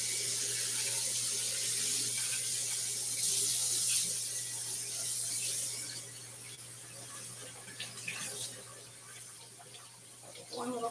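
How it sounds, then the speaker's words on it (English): A kitchen tap runs steadily as a soaked microwave cover is wiped and rinsed, giving a continuous splashing hiss that shifts in texture as the cover moves under the stream. "Just going to wipe it and rinse it."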